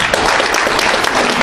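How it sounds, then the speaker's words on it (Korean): Audience applause at a forum event, a loud, dense burst of clapping from a crowd filling the whole moment. "우리 황산 선생님께도 감사의 박수 한번."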